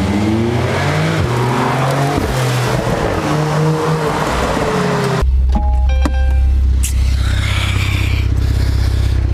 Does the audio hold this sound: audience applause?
no